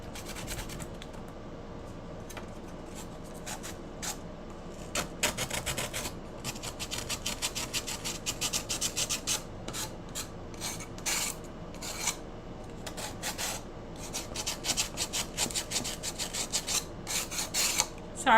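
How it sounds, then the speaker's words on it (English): Wood sanded by hand for a Halloween cutout, a dry rasping scrape in quick repeated strokes that start sparse and turn into a steady back-and-forth rhythm, close and alone. "Sorry about the sanding noise."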